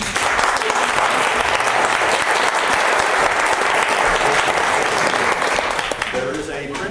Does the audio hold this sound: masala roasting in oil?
no